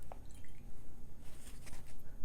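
A watercolour paintbrush rinsed in a water jar gives soft, steady liquid swishing and dripping with small splashy clicks, close and continuous.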